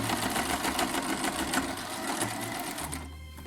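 Sewing machine running steadily while stitching a buttonhole, a continuous close mechanical whir with the needle's rapid rhythmic tapping, loud and alone, slowing and stopping just before the end.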